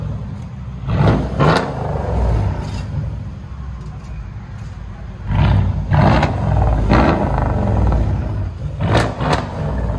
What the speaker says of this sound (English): You can hear it spool off. The turbo spooling up.